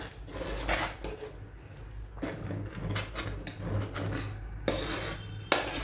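A spoon scrapes and clinks against a metal pot while stirring kheer for a Ganpati offering, with repeated rubbing strokes and occasional sharper knocks, close and fairly quiet with no talk.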